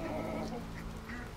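Ducks on a small farm give a few scattered quacks and honks over a steady low background hum, fairly near and moderately loud, with no voices.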